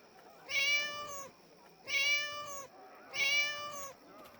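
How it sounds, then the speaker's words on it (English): A cat in the fantasy role-playing game Neverwinter Nights 2 meows three times in a steady, evenly spaced sequence, each call a clear, fairly close, tonal mew standing alone with no talk over it. "Oh, it's the cat over there,"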